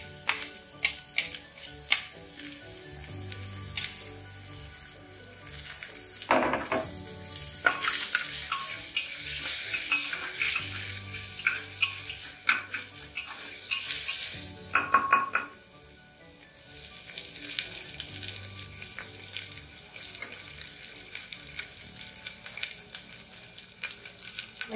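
Grated ginger and garlic sizzle loudly in hot oil in a pan for mutton curry, with repeated stirring scrapes and occasional clinks of a utensil against the pan throughout.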